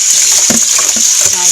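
Black beans are rinsed under a running tap in a kitchen, a steady close hiss of water broken by a few soft knocks and sloshes as the beans are handled.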